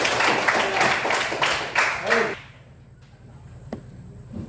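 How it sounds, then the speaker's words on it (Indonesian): An audience at a classroom group presentation claps together for about two seconds, then the applause stops abruptly and the room falls nearly quiet; one short spoken word is heard. "Tepuk tangan dulu lah."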